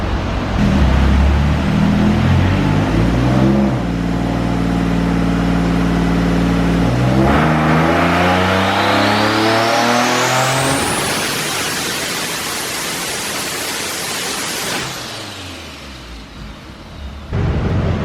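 A twin-turbo Nissan 370Z with blown turbos roars loudly on a dyno, its engine note climbing steadily through a long pull to a high-pitched scream, then cutting off and winding down with a whooshing release.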